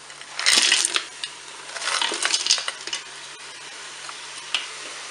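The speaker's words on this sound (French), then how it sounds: "Je vais pouvoir faire revenir, eh bien, mes steaks hachés coupés en morceaux." Chopped ground beef steaks and carrots brown in a Cookeo multicooker, with loud sizzling and frying broken by scraping, clattering stirs of a utensil against the pot, close up and without talk.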